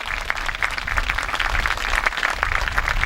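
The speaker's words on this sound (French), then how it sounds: "on peut les applaudir une nouvelle fois" An audience claps at a medieval festival in Clisson, a dense burst of many hands applauding together, loud and steady for a few seconds, outdoors with no voices over it.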